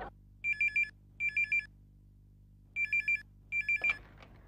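A telephone rings on a call to a gas agency, sounding four short trilling double bursts with pauses between, clear over a quiet low hum.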